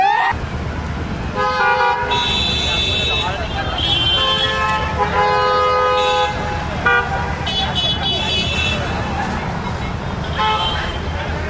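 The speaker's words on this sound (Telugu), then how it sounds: "traffic jam" Car horns honk repeatedly in a traffic jam, several overlapping toots over a steady roar of engines and road noise, with voices mixed in.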